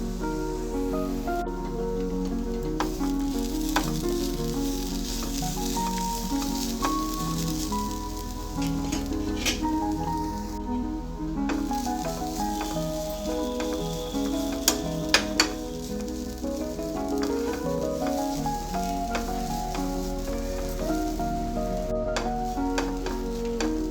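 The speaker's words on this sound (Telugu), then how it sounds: "క్యారెట్ బీట్రూట్ తురుముని సిమ్లో బాగా మగ్గనివ్వాలి." Grated carrot and beetroot sizzle gently in a pan on low flame, a soft continuous frying hiss with faint occasional stirring.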